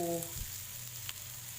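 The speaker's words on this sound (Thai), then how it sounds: "ปิ้งไปนะคะ จนกว่าจะสุก" Paneer tikka grilling in a pan until browned gives a steady, close sizzle and crackle that continues evenly throughout, with no voices.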